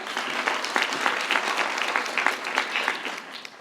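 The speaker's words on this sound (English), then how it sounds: "let's give William Burns and the Birmingham Urban League a round of applause" A large audience at the 2024 Minority Business Awards applauds steadily, dense overlapping clapping at a constant, fairly loud level throughout, with no talk on top.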